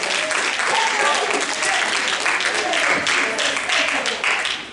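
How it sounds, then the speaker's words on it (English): A church congregation claps during a sermon, a loud sustained wash of hands with voices calling out over it throughout. "Somebody ought to clap their hand and give God some"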